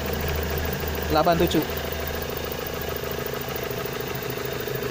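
A car engine idles at around 775 RPM with a steady low hum and faint mechanical chatter, close by, while a person speaks briefly over it.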